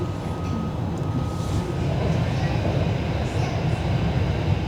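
A Merseyrail electric train runs through the tunnel beneath the River Mersey between Hamilton Square and James Street, giving a steady, loud rumble and roar from inside the carriage, with no break in the noise.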